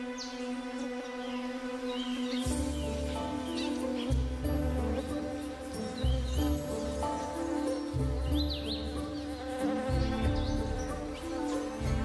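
Steady insect buzzing with overlapping tones that shift every couple of seconds, as several male orchid bees hover close by, with no voices.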